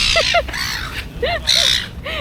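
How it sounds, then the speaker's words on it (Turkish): Aggressive seagulls at Hamburg harbour give loud, close, harsh calls in quick bursts of several cries, over a low murmur of harbour background. "Burada martılar çok agresif."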